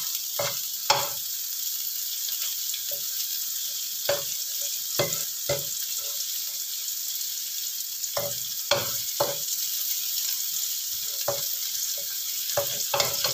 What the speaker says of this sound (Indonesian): Kita goreng bumbunya sampai harum.